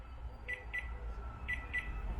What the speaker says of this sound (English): So you can find your car in a car park. It makes that mild beeping noise.